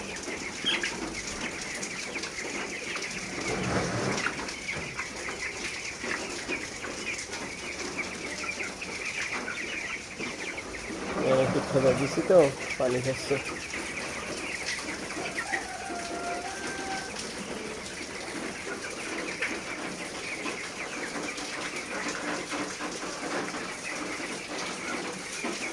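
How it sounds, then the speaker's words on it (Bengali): Backyard chickens cluck now and then in rain, with wings flapping around 11 to 13 seconds over a steady wash of rainfall; a person talks quietly nearby. "এরা মুরগিরা একটু বৃষ্টি বিলাস করতেছে, বাইরে বৃষ্টি হচ্ছে"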